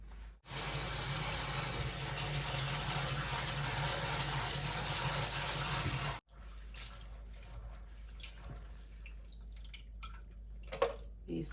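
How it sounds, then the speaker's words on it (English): A kitchen tap runs steadily into a jar of bean sprouts being rinsed, a close, broad hiss of pouring water for about six seconds before it cuts off, followed by quieter drips and small wet sounds. "I let the water run sometimes, and I'll just let the little hulls spill out"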